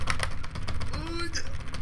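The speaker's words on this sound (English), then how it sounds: "there's a lot of clicking and tapping noises" Rapid clicking and tapping, like keyboard keys and mouse buttons, picked up by a sensitive desktop microphone during a gaming session, steady close taps under a constant background hum.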